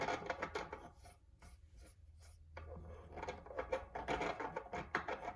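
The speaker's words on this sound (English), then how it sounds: "This is a reamer." A reamer scrapes wood debris out of an electric guitar kit body, producing bursts of rasping, scratchy rubbing with a short pause in the middle, close up and without talking.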